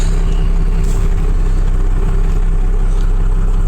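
A truck converted from a V10 to a Cummins diesel engine runs on a road test, a loud, steady low engine drone with constant rumble throughout and no talking.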